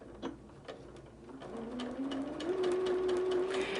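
A home sewing machine runs steadily while stitching the last seam of a half square triangle quilt block, its motor hum rising in pitch after a soft start, with faint ticks from the needle mechanism.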